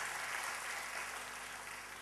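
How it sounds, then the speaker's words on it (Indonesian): Applause fills a church, a dense wash of clapping from the congregation that holds steady for a couple of seconds. "tepuk tangan buat Tuhan kita"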